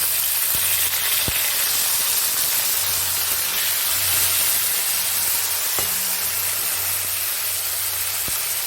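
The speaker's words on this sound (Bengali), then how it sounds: "এবার ওই তেলের মধ্যেই টমেটো কুচিটা দিয়ে দিলাম।" Chopped tomatoes sizzle in hot oil for a Bengali mixed dal, a loud, continuous hissing fry close up, with a few faint clicks and a low hum underneath.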